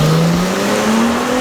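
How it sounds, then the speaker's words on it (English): A Dodge Challenger's 3.6 V6 fitted with a 3-inch X-pipe exhaust revs loud and close, a steady deep growl whose pitch climbs smoothly as the engine builds speed, with no talk over it. "we also installed the exhaust system on the Challenger, which is a 3-inch pipe, X pipe, and it does make your V6 sound like a V8"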